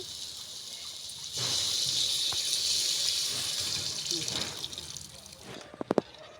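Tamarind water pours steadily into a cooking pan for several seconds with a splashing hiss, ending in a few sharp clinks and taps.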